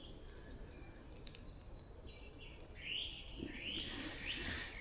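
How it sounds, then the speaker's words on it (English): Birds sing a dawn chorus in wet Chilterns woodland, several calls and whistled phrases layered over a steady hiss of rain or wind, growing fuller toward the end. "And then woke up to this wonderful dawn chorus."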